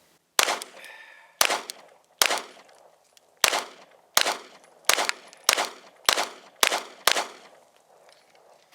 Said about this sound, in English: That was the Glock 43X.